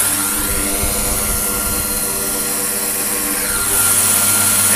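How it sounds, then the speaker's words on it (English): A 40-pound electric-powered six-bladed rotorhead model helicopter on a Wookong controller hovers in place, giving a loud, continuous whirring drone with a steady pitch that swells slightly louder near the end. "This is a six-bladed rotorhead machine. It weighs 40 pounds. It's electric-powered."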